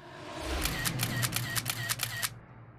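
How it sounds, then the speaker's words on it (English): A camera shutter clicks about eight times in quick, even succession, fairly loud over a faint background hiss while selfies are taken, with no talking. "I'm gonna keep taking selfies forever"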